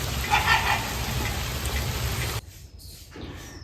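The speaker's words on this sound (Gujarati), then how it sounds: "આવે વરસાદ અને જાય." Steady rain hiss, fairly close, that cuts off abruptly partway through, leaving near silence with a few faint sounds.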